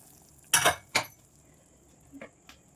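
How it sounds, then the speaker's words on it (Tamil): Metal lid lifted off a cooking pot of boiled vegetables for white kurma, two sharp clanks close together followed by a couple of lighter metallic taps, with quiet kitchen background. "ஸோ அதனால் லிட்டை ஓப்பன் பண்ணிக்கலாம்"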